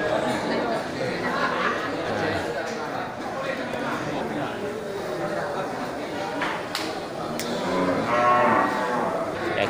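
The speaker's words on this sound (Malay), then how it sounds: "Dan juga terlihat nih sapi indukan besar ya," Large breeding cattle of the simental breed low and shuffle at the busy Geurugok animal market in Aceh, the moos rising over a steady crowd murmur and nearby chatter.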